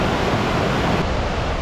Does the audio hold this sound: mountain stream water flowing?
yes